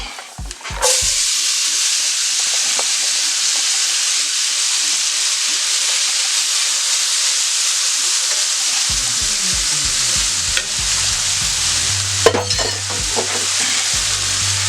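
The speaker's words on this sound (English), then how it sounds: "And we're going to add our potatoes." Potatoes hit a skillet of onions for a country breakfast casserole, setting off a loud, steady sizzle with scraping stirs and occasional clatter; a low rumbling hum joins toward the end.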